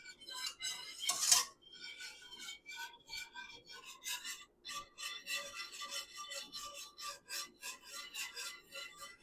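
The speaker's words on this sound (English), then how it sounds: "So we're just going to whisk this until it is smooth." A whisk scrapes steadily through a thick creamed corn mixture in a bowl, giving rapid rhythmic rasping strokes with a louder clatter near the start, close and without talk.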